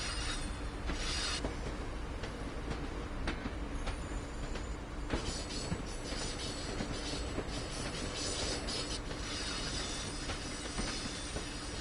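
A train rolls steadily around a rail yard in Train Sim World 5, a continuous rumbling ride with clattering wheels, faint squeals and intermittent clicks over the track, loud and close throughout.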